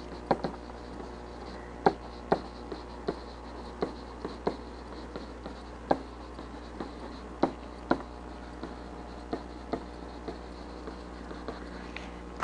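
Writing out an algebra note makes quiet scratching strokes with sharp little taps at irregular intervals, close and alone, with no voices.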